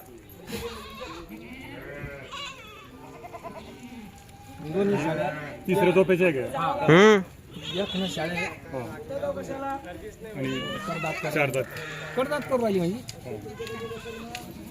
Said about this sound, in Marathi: फ्रेश फ्रेश शेळ्या आहे हो